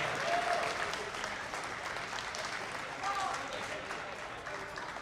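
Sustained audience applause for VAIL VR esports champions Ascendancy at the VRLAN Amsterdam LAN grand finals; a broad, even wash of clapping from a crowd, moderately loud and continuous.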